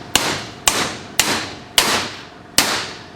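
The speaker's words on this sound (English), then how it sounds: "We're going to drive the outer race in next." A hammer strikes a bearing race driver, seating the outer race in a GM Duramax truck front differential: five loud metallic blows at a steady, unhurried pace, each ringing briefly.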